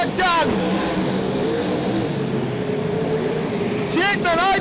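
Sprint cars roar around the Archerfield Speedway dirt oval during an A-Main race, a loud continuous engine drone with revving pitch sweeps at start and end, under an excited race commentator's voice.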